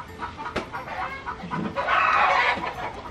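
Backyard chickens at a rural Philippine home cluck and squawk nearby, a sharp call near the start and a louder burst of clucking toward the end.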